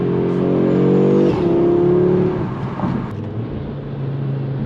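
An Audi RS3 pulls hard with a loud, close engine drone, then drops abruptly in pitch as it downshifts quickly, with wind rumbling underneath.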